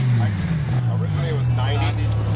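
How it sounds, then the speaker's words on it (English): A BMW M5 engine held at a raised, steady drone that sags slightly in pitch, heard up close with voices over it. "this is me revving up an M5"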